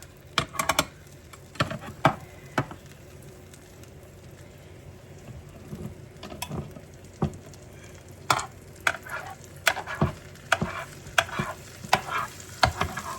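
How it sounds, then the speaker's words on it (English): Scrambled eggs cook on a George Foreman grill, with soft frying and a run of sharp clicking taps of a utensil against the plate, irregular and close, with no talking. "As you can see, we're making scrambled eggs."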